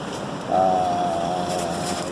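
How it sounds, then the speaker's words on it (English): Steady roaring desert wind in the Owyhee Desert, heard from inside a tent, buffets and rumbles across the whole clip, with a gust swelling about halfway through and a faint whistling tone riding above it. "It's super windy"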